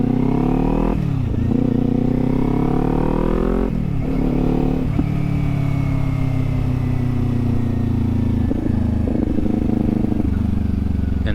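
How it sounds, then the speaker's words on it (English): A Kawasaki Z400 motorcycle is ridden, its engine loud and close throughout. The pitch climbs through several gears, with short dips at each shift, then settles into a steadier drone. "that is reason 3 why I like the Kawasaki Z400 and why this is a good beginner bike"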